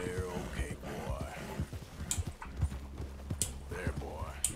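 Horse hooves clip-clop at a walk through a forest clearing near a cabin in the video game Red Dead Redemption 2, a steady soft rhythm of light thuds with faint rustling and sharp clicks, moderately close and fairly quiet.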